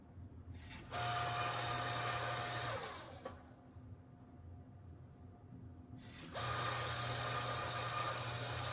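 A hand-cranked or motorized pasta maker rolls fresh pasta dough for tagliatelle or pappardelle, giving a steady mechanical whir with a low hum in two sustained bursts separated by a quieter pause, close and without talk.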